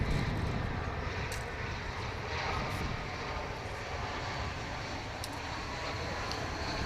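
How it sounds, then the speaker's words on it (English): An American Airlines Airbus A319 arriving at Dallas/Fort Worth makes a steady, fairly close rumble of jet engines that holds evenly for several seconds without speech. "Here comes American Flight 1932 from San Luis Potosí in Mexico."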